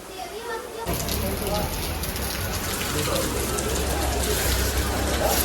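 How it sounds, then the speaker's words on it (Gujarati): Heavy rain in Patan, Gujarat starts abruptly after a moment and then keeps up a loud, steady hiss of downpour, close by and unbroken to the end. "બધો વરસાદ જબરદસ્ત ચાલુ છે"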